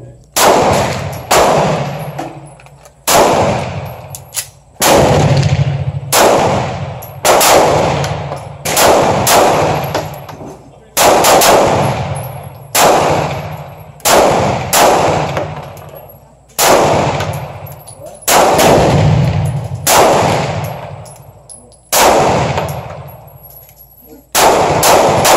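Twelve rounds of Midwest Ammunition fired in steady succession, each loud gunshot sharp and close with a decaying echo, spaced roughly two seconds apart with no talking.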